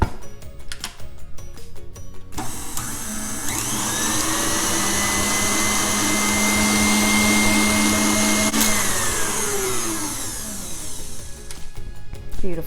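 An electric stand mixer churns chocolate chip scone dough, starting after a few seconds of handling noise, running in a steady, loud whirring hum for about six seconds, then winding down to clatter at the end.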